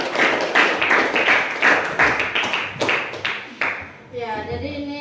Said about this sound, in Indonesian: kasih tepuk tangan untuk kita.